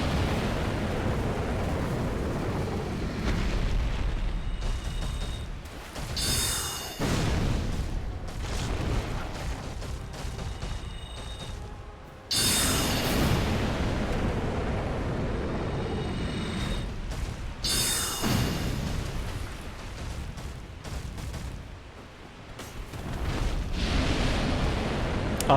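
Fire spell blasts in a Dark Souls boss fight, loud booming bursts with sudden onsets around 7, 12 and 18 seconds over a continuous roaring rumble, no talking.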